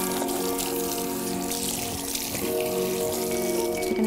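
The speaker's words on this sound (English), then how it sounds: "make sure all the colour is removed and that the water is actually running clear now" Tap water runs steadily and loudly into a salon basin while hair is rinsed, a continuous close splashing hiss with no talk.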